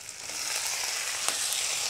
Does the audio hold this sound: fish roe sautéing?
yes